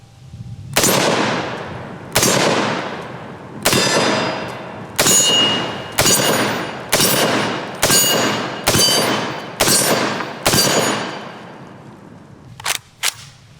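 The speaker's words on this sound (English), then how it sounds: "Let's do a little mag dump." A .308 battle rifle dumps a magazine at steel targets: about ten loud, sharp gunshots at a steady rapid rhythm, each ringing off, followed by two faint metallic pings from the steel at the end.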